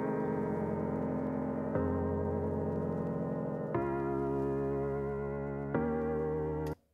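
A lo-fi FM basement piano sample plays sustained, warm chords that change four times in steady succession, loud and close with a slightly wavering, chorus-like tone, ending abruptly with no voices.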